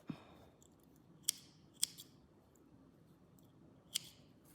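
Scissors snip crochet yarn in a quiet room during work on a flowered granny square, giving three crisp, close cuts spaced apart plus a soft click at the start.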